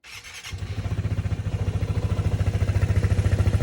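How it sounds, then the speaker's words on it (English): A 2020 Vespa 300 GTS scooter engine fitted with a PM 68 exhaust cranks and catches after a brief start, then settles into a steady, rapidly pulsing idle that grows slightly louder. "is to start the bike up"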